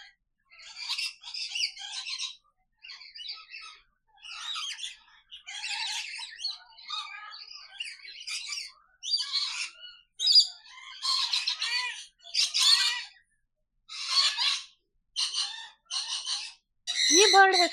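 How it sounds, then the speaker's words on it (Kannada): Parrots, macaws and a hornbill calling inside a bird aviary, a run of harsh squawks and screeches in repeated bursts, some near and loud, with a person's voice mixed in among the calls. "ಎಷ್ಟು ಕಲರ್ಫುಲ್ ಆದ ಪ್ಯಾರೆಟ್ಸ್ ಇದೆ ನೋಡಿ"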